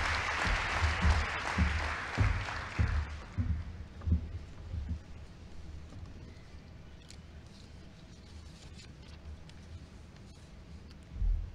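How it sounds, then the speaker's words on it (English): Applause from a crowd at a science week launch starts strong, then thins to scattered claps and fades into quiet room noise. "A round of applause for the Vice Chancellor."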